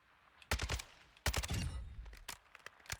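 A Kastov-762 automatic rifle fires on a Modern Warfare 2 firing range: two rapid bursts followed by scattered single shots, sharp and punchy against a quiet background.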